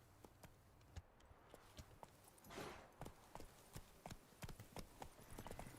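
Horse Roach trots in The Witcher III, a steady clip-clop of hooves in an even rhythm, moderately close and fairly quiet, with a brief whoosh partway through and no talk.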